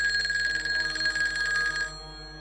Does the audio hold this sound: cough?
no